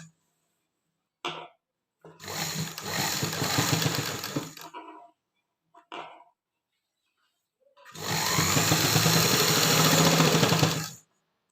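A sewing machine stitches directly over an existing seam on trousers in two loud, steady bursts, a shorter run and then a longer one, separated by silence and a few brief clicks.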